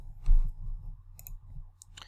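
A few quiet, crisp computer mouse clicks, spaced out over a couple of seconds against a near-silent background.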